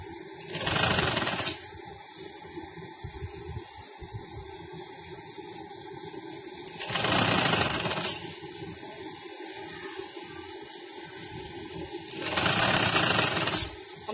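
A sewing machine stitches a sleeve onto a girl's short frock in three short bursts of fast rattling whir, each lasting about a second or two. Long quiet gaps with faint handling noise separate the bursts.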